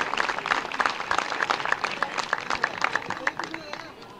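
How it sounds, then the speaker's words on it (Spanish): A crowd at the 47th Fiesta del Salame Quintero, a salami festival in Mercedes, Buenos Aires, claps in quick, sharp bursts, fairly faint and distant, with murmuring voices beneath. "aplauso para Juan Carlos y todos los productores aquí presentes"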